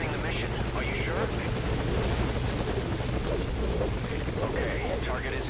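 Helicopter in Metal Gear Solid V: Ground Zeroes, a steady droning rotor hum that stays constant and close throughout, while radio-style voices talk over it.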